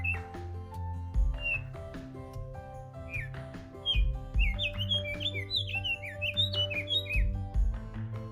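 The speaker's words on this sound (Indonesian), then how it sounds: "disambut burung kacar gunung yang riang menyambut" Cheerful mountain birds (burung kacar gunung) on Mount Merbabu give bright, repeated chirps and warbling calls, fairly near and clear over a steady low hum of background sound.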